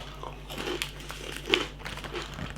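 Serious Pig Snackling, a crumbled baked cheese snack, being crunched up close: a string of crisp, irregular bites and crackles with small chewing sounds between them.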